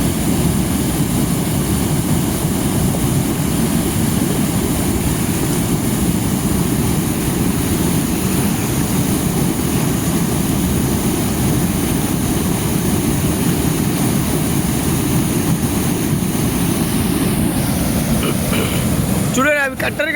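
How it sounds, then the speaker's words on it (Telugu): A village waterfall pours and splashes in a constant, loud, dense roar that holds steady for the whole stretch, close to the listener and without pause. "ఆ అలలి సౌండ్, ఆ నీటి శబ్దం, కింద పడేటప్పుడు వచ్చే ఆ శబ్దాన్ని వినండి"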